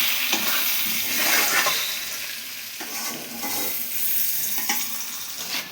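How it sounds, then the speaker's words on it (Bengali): Potatoes fry in oil with a little turmeric and salt, giving a steady loud sizzle with bursts of stirring scrapes and no voices. "আলু দিয়ে অল্প পরিমাণ হলুদ, অল্প পরিমাণ নুন দিয়ে লাল করে ভেজে নিতে হবে।"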